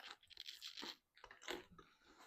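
Crunchy chewing of a big bite of vegan steak salad with dressing, close up and fairly quiet, bursts of crisp crunching with a short pause midway, no talking.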